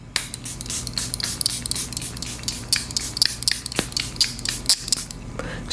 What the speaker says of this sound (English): Charlotte Tilbury Airbrush Finish Spray. So good. So I'm going to spray the face like this.